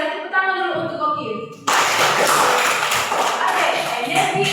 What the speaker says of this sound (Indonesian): Tepuk tangan dulu untuk Oki.